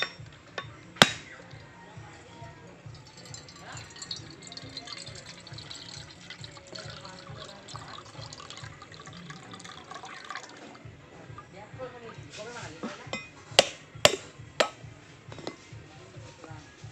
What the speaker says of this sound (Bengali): এবার নারকেলটা ফাটিয়ে নেব